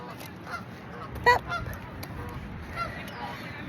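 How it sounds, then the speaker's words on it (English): Canada geese honking along the Charles River, a few faint distant honks over quiet outdoor ambience, with one louder honk standing out. "These geese are honking."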